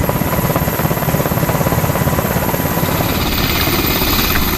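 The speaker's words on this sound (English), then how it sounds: "The officers, with the classified hard drives in hand, soon board an HS-60 Seahawk helicopter and leave Nimitz." An HS-60 Seahawk military helicopter flies close by, its rotor chopping in a steady rapid pulse under a loud continuous engine roar.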